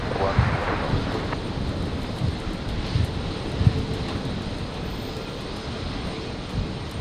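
A Qantas aircraft takes off from runway 01 right at Brisbane Airport on a stormy night, a steady distant engine roar with wind buffeting and faint voices over it.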